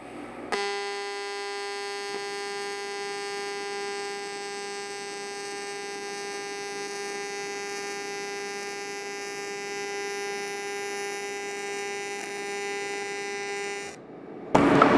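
A TIG welding arc fed with filler rod gives off a steady, loud electric buzz with a constant tonal hum that holds evenly for about thirteen seconds before cutting off abruptly.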